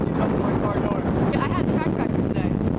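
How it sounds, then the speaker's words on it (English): Strong gusty wind on the southeast Connecticut shore, a loud, continuous roar buffeting the microphone with surging rushes and no clear breaks. "we're still battling that wind that some described like a hurricane"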